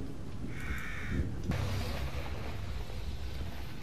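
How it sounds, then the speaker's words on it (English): Crows cawing in the horror video game The Evil Within, a short run of harsh caws standing out clearly above a low, steady ambient rumble. "Crows!"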